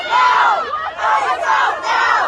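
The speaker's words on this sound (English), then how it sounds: "The scene turning chaotic as agents made arrests and pushed back the crowd." A chaotic crowd during a federal raid on Canal Street street vendors: many voices shout and yell together in loud, continuous surges that rise and fall.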